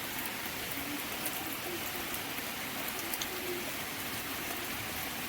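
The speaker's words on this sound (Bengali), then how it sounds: "এখন আরো জোরে বৃষ্টি হচ্ছে" Heavy monsoon rain falls steadily at a distance, a constant broadband hiss with scattered drips, and faint bird calls sit in the background.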